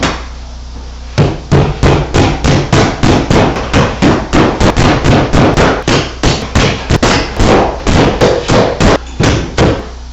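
Steady, loud hammer blows driving drywall nails into a wall during a house renovation, about two dozen sharp close strikes in a fairly even rhythm with no talking.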